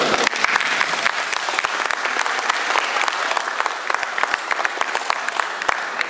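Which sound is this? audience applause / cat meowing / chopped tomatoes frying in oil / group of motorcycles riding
audience applause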